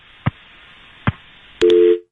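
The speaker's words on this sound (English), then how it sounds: "Wait till the dial tone." Telephone line after a call ends: two short clicks, then a loud, steady tone with a sharp start that holds for about half a second before cutting off.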